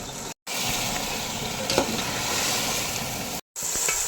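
Chicken pieces frying in masala for a Mughlai chicken dum biryani, with mint added, giving a steady, close sizzle with bubbling and spatter that runs throughout, broken by two brief dropouts.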